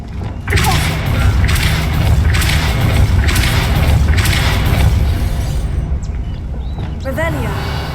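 A loud spell blast in Hogwarts Legacy booms and thumps with a crackling, rushing burst. Magical whooshes pulse repeatedly through the passage, then fade into a brief ringing tail. A voice speaks over the effects.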